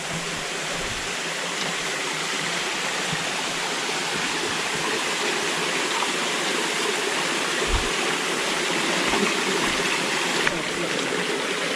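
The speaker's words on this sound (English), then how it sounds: "River crossing." Steady broadband rush of a river flowing at a hiking trail river crossing on the Appalachian Trail, continuous and fairly loud with no let-up, a few faint bumps and handling knocks over the constant water noise.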